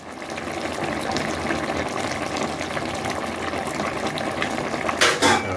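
Jamaican wine beef simmering in a pot, a continuous bubbling, watery boil held at an even level throughout, close up, with a brief louder knock or splash near the end.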